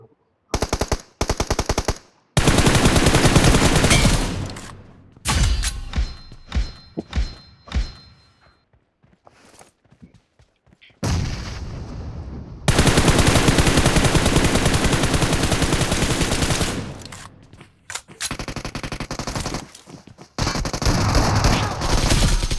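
Gunfire rattles through a shooter video game in a two-versus-three match against snipers. Loud automatic bursts and rapid volleys are broken by short silences and single shots, running long and close, with no talk over them.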